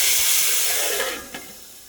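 Hot tempering poured into a pot of mixed-vegetable sambar gives a steady loud hiss and sizzle that slowly fades, with a brief sharper burst near the end, no voices.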